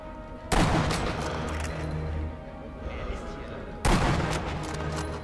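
Gunfire in the video game Sniper Elite V2: two loud, sudden blasts a few seconds apart, each followed by a sustained rumbling tail over a busy background of game noise.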